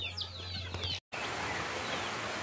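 A hen close by gives a few short clucks and chirpy calls beside her newly hatched chicks, then the sound cuts briefly before a steady background hiss continues.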